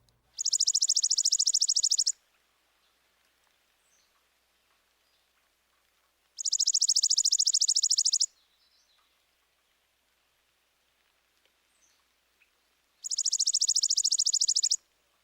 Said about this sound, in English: Now here's the chipping sparrow. His song is a rapid,